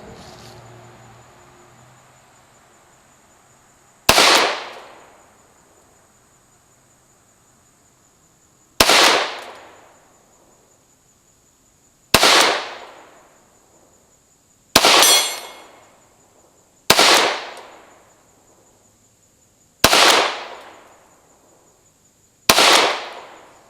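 Ruger Mark IV .22 pistols fire seven sharp, loud single shots at a target outdoors, spaced several seconds apart with quiet gaps and a steady high insect-like whine between them.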